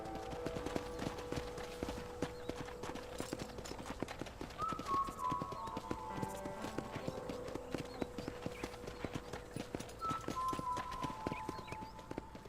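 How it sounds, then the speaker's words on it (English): Horses walking in the Western video game Red Dead Redemption, hooves clip-clopping in a steady, dense rhythm throughout, with faint background voices and game music tones underneath. "I just loved how these horses sounded so realistic."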